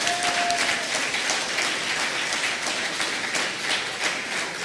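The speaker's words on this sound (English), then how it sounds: "You deserve a special round of applause." A lecture audience applauds an independence committee in a sustained, even round of clapping, with a brief whistle-like tone at the very start.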